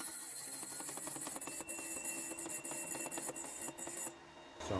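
Steady broadband grinding and rasping of a drill bit being sharpened on a bench drill-sharpening machine, loud and continuous with slight fluctuations, then dropping off abruptly near the end; no talking.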